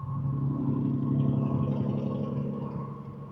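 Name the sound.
loud truck passing on the road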